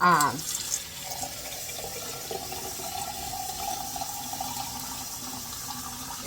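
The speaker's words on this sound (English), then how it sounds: "So I'm going to fill these jars up with water." Tap water running steadily into glass canning jars at a kitchen sink while preparing to can homemade pear preserves, a continuous splashing rush with a brief louder burst at the start.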